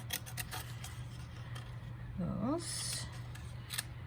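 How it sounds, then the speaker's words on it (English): Scissors snip freehand through paper sentiment strips for handmade treat boxes, a few short crisp cuts in a quiet room under soft talk. "So I'm just going to freehand cut"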